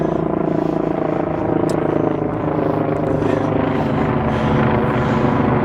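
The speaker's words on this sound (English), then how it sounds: "helicopter flying over" A helicopter flies overhead near an old fort site, its loud, steady rotor thump filling the whole stretch with a continuous heavy drone.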